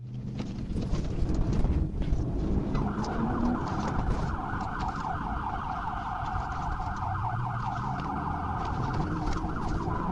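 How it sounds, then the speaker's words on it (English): A state trooper's police car siren wails from the dashcam car during a pursuit, a rapid repeating warble rising after a couple of seconds and continuing steadily over road and engine rumble. "The trooper activated his siren briefly in an effort to get the driver's attention"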